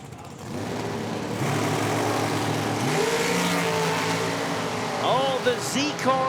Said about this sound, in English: Left side, Chase McKay, 439 for this super bright striped up dragster with Oakley 648-inch power on the left side